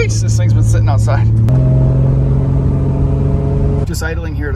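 A Nissan 350Z-family car engine idles at a stoplight with a low steady hum and rumble, while people talk over it at the start and end.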